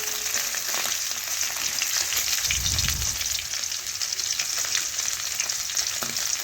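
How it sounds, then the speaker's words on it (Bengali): Katla fish heads and pieces frying in hot oil, a steady dense sizzle and crackle close up that continues throughout, with a brief low thump partway through. "মাছের দুই পাশেই লাল লাল করে ভেজে নিচ্ছি"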